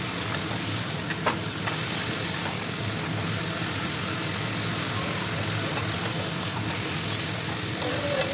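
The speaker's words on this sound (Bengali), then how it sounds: "মাংসটা একটু ভালো করে তেলে ভেজে নেবো" Meat sizzles steadily in hot oil in a pan, a dense, even crackling hiss that runs throughout, with a few faint clicks of a utensil.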